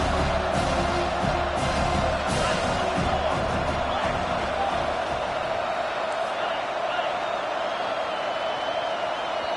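A packed college football stadium crowd at a Georgia game roars in a broad, rumbling wall of noise that swells early and eases slightly, with a commentator talking over it.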